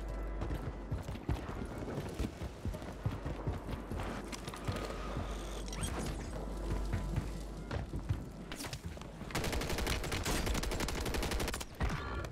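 Gunfire in Call of Duty Warzone on Rebirth Island: rapid dense bursts of shots crackle throughout amid game noise, growing louder and more sustained toward the end.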